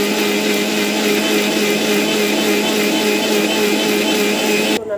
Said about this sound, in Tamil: மிக்சியில் போட்டுட்டு நம்ம வந்து நல்லா வந்து மசி வச்சிடலாம்